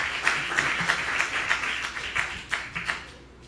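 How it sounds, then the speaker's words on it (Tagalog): A church congregation at a preaching service claps, scattered, fairly faint hand claps in a loose rhythm over about three seconds, thinning out at the end. "Palakpak, mga minamahal."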